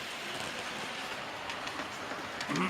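An S15 model railway locomotive runs along the track of a loft layout with a steady, soft rolling rumble at close range and a few faint clicks near the end.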